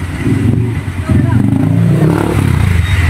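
Motorcycles rumble past on a narrow road toward Bulacan in the Philippines, loud and close with a throaty engine drone that swells after a brief dip, mixed with a voice in the background.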